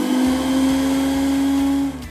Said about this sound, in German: Damit ihr auch wirklich jede Zutat klein bekommt, hat der Mixer ein ProBlend 6 Messer.